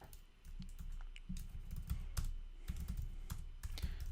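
Code being typed on a computer keyboard: rapid, uneven bursts of close key clacks with heavier thumps of larger keys, continuous and alone.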